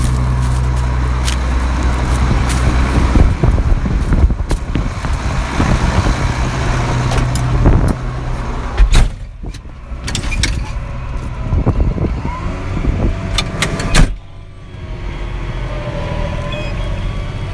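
A farm tractor that uses no oil runs during soybean planting, its engine a steady, loud low drone with rattling and clanking on top and brief dips in level.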